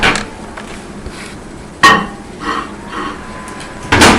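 A brownie in a ceramic mug is placed into a microwave, with a few hard knocks and clunks, one sharp clack midway and another at the end, over a quiet background.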